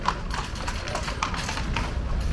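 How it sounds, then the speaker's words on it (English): Horse hooves clip-clop on a Dublin street near the Guinness Storehouse, where riders and horse-drawn carts pass; a steady run of close, sharp taps sits over constant traffic and street noise. "Lots of horse riders here, horse and carts."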